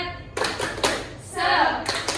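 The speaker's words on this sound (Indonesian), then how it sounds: "Yuk, tepuk semangat." Group claps a quick rhythmic spirit clap in a classroom, a few sharp bursts of clapping broken up by a short shouted voice.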